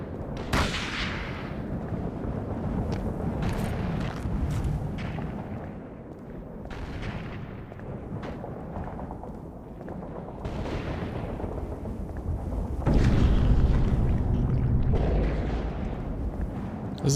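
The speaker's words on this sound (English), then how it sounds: "Oh wow, it's actually shooting at me." A machine shooting at the player in Call of Cthulhu: Dark Corners of the Earth lets off repeated loud bursts of gunfire with booming impacts. The bursts continue throughout, and a heavier volley comes near the end.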